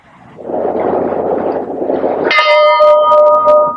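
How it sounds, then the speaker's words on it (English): Bell tolling at a memorial for the Space Shuttle Columbia astronauts, a single loud, ringing stroke that sustains after a stretch of rushing, wind-like noise. "They were honored with the toll of a bell"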